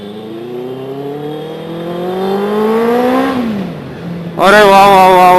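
Motorcycle engine revving on a morning ride through traffic, either a BMW G310GS or a Benelli 600i; a loud, close engine climbs steadily in pitch, drops away briefly, then surges back even louder with a sharp rev.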